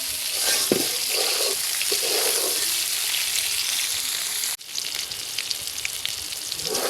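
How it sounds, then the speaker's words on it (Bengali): Pointed gourd pieces fry in oil with a little turmeric, giving a continuous close sizzle with faint stirring clicks and one brief dip partway through. "পটলটা সামান্য হলুদ দিয়ে ভেজে নিব"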